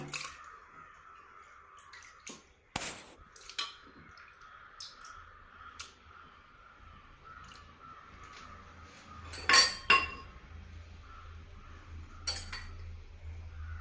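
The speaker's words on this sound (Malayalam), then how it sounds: "അപ്പം കഴുകി വെച്ചിരിക്കുന്ന മട്ടൺ കുക്കറിലേക്ക് ഇട്ട് കൊടുക്കാം" Pieces of washed mutton are dropped into a pressure cooker with scattered clinks and knocks of metal and a few wet drips, quiet between the sharp hits.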